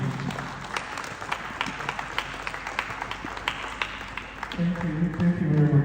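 Conference audience applauding steadily for several seconds, a dense patter of many hands at moderate loudness, with a voice speaking over the clapping toward the end.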